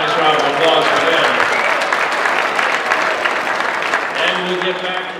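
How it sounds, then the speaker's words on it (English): At the Little Yellow Dog charity auction, an audience gives a warm round of applause for club donors, dense clapping sustained for several seconds with voices murmuring beneath. "Let's have a nice round of applause for them."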